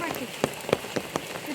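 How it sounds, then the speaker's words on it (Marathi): Heavy rain pours down outdoors with water pooling on the street, sounding as a steady close wash broken by several sharp, loud drip or splash hits spaced through the passage, with no talk. "लय आज पावसानं कांड केलंय"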